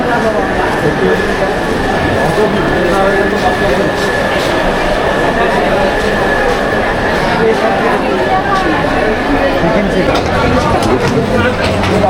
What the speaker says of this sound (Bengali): নামখানা লোকাল প্রায় ট্রেনটা ঢুকে গেছে